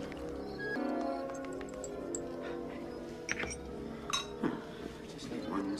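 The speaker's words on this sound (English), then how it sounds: "Stirring in solution." Stirring a solution in laboratory glassware with a condenser nearby, giving light, scattered clinks and taps of glass over a soft background hum.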